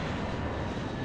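An airliner takes off from a runway at Los Angeles airport, giving a loud, steady, broadband engine roar that fills the whole short moment without a break.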